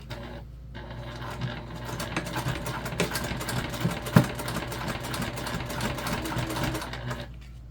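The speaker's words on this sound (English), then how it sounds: "we are going to throw a top stitch on here, and top stitch is just 1/8 of an inch away from your edge" A sewing machine runs steadily, sewing a top stitch an eighth of an inch from the fabric edge, a close mechanical whir with rapid needle clatter, pausing briefly near the start.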